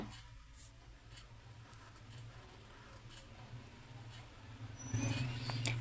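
Handwriting on paper gives soft, continuous scratching and tapping strokes, faint and close, with a low steady hum underneath and no talking.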